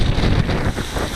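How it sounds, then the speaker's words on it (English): A strong wind gust of roughly fifty miles an hour, a loud continuous buffeting roar across the microphone, heard alone for a moment during quadcopter flying in very high wind. "whoa, it's a big gust."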